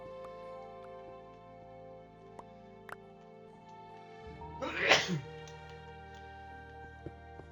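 One short, sharp sneeze bursts out mid-clip over a quiet background of steady electronic hum and game tones, with a few faint clicks before and after.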